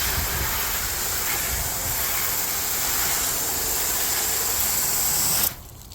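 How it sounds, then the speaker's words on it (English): Water sprays onto a ceramic-coated car during a rinse, a steady close hiss that cuts off abruptly just before the end. "I'm going to do a few more sprays just to see what goes on."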